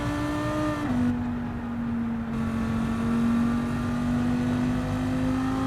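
A race car engine in Gran Turismo 7 drones loudly and steadily, its pitch dipping briefly near the start and then climbing slowly as the revs build.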